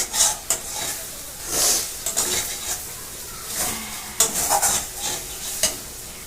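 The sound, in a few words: spicy food being sautéed in a pan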